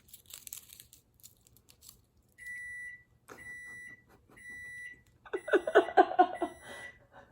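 A kitchen timer beeps in three evenly spaced, steady electronic tones, loud and close, followed by a burst of crinkling packaging.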